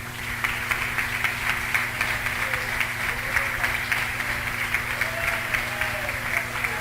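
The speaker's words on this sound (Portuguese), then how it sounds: "Aplauda o Senhor nessa noite porque Ele merece" A church congregation applauding during a sermon, a steady, dense clapping crowd under a constant background hum, with some voices mixed in.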